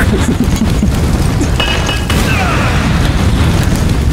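Grenade blasts go off in Resident Evil 5 gameplay, dense booming bursts and crashes layered over a loud, busy game mix, with a sharp burst near the middle.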